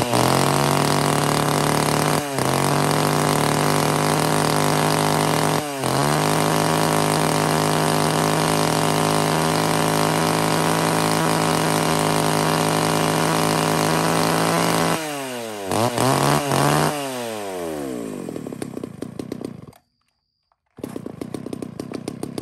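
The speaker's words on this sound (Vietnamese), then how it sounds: "một chiếc máy cưa sử dụng ít, một chiếc máy cưa Nhật bãi các bác nhá" A used Japanese-market chainsaw engine runs steadily up close, a loud, buzzing two-stroke drone with brief dips, then the throttle revs and falls off before the motor cuts out and restarts.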